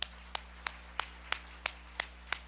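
A church congregation claps in slow, evenly spaced single claps, about eight sharp hits at a steady rhythm, faint against a low electrical hum.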